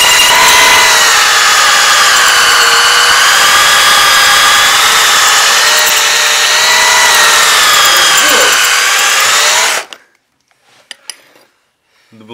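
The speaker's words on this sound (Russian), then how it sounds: "Это было перфоратор." A rotary hammer bores through metal cookware, a loud, continuous grinding whine with wavering pitch that runs close and steady for about ten seconds, then stops abruptly, leaving faint clinks and a brief noise.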